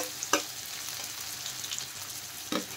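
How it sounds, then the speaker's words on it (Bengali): Chopped onion, garlic and ginger sizzle in hot oil tempering for dal torka, with a soft steady fry and two sharp spatula scrapes near the start and end. "এখন ফোড়নে দিয়ে দিলাম আমি পেঁয়াজ, কুচনো পেঁয়াজ, দিয়ে দিলাম কুচনো রসুন, আর দিয়ে দিলাম কুচনো আদা"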